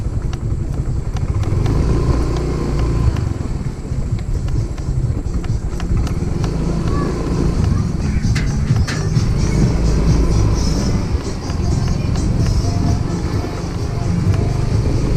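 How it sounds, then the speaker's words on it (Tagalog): A motorcycle engine runs steadily and loudly throughout on a neighbourhood street in the Philippines during New Year preparations, a continuous rumbling idle with rough low sputters, though a clear stall is not evident. "Mamatay na naman po yung motor natin."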